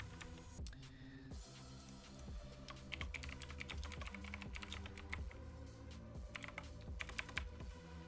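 Rapid typing on a computer keyboard clatters continuously through the clip, set against a steady backing of beat-driven music with a regular pulse.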